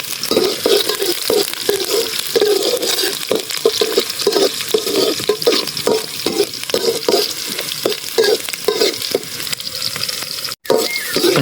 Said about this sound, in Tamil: வெங்காயத்தை நல்லா வணக்கிக்கலாம்.